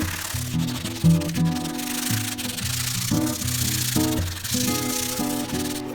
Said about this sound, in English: I am going to get some high grit sandpaper, just scuff this up just a little bit all over